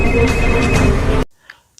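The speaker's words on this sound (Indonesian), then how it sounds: "Porus yang mendapatkan nomor telepon Divya langsung menelponnya." A telephone rings in an Indian film, a dense loud tone with musical layers for over a second before cutting off abruptly, followed by near silence and a faint brief click.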